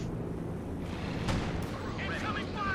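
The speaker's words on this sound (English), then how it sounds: "We've got artillery raining down there" Artillery shells rain down in a Company of Heroes 2 match, a dense rumbling barrage with booming impacts and crackling bursts, loud and continuous, with brief whistling effects near the end.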